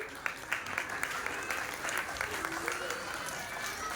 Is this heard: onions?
no